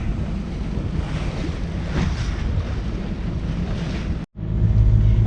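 Sailboat motor sailing at sea with its sails out, a steady loud rush of wind and water against the hull with a low drone underneath, broken by one brief dropout near the end.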